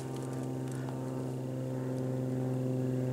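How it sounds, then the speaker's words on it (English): A steady, droning airplane engine hums overhead above a swamp campsite in the Green Swamp, a continuous, even rumble throughout with no one speaking. "except for the air noise, airplane noise"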